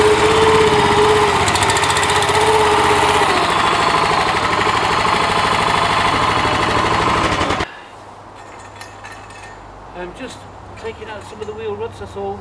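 A dumper's small engine runs loud and close on a compacted new lawn site, a dense rattling drone that cuts off abruptly partway through, leaving quieter ambience with a few faint knocks and sounds.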